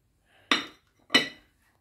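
Plates are unloaded from a home dishwasher: two separate, crisp clinks of dishes knocking together, close and fairly loud, with quiet pauses between.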